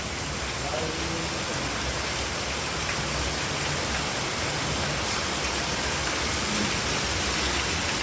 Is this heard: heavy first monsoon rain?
yes